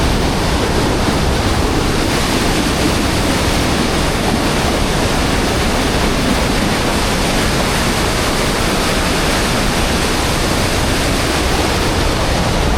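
A powerful waterfall rushes in Szklarska Poręba in winter, a steady, loud, close roar of falling water that holds an even level throughout with no break.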